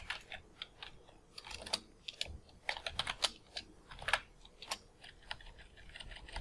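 Someone types on a computer keyboard with quick, irregular, faint key clicks in uneven bursts, close by and without talk.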